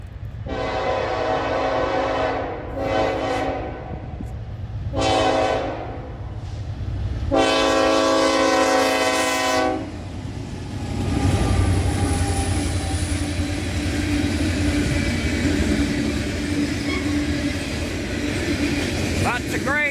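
An eastbound Norfolk Southern freight train sounds its horn in four loud blasts, the last one long, then passes close by with a sustained rumble and clatter of wagons.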